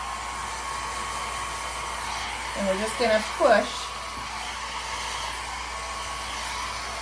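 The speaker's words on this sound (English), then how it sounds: "Now we're going to grab a little blow dryer on low," A small hair dryer on a low, cool setting blows a steady broadband hiss throughout, moving alcohol inks on stencil art, with brief speech rising over it midway.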